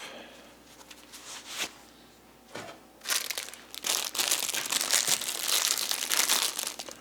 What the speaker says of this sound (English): Take my gloves off.